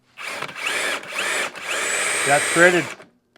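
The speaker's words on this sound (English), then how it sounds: "you turn this with the drill on high RPM" A power drill whirs at high RPM in three close bursts in a stair maker's shop, the last long and high-pitched, while someone speaks over the motor.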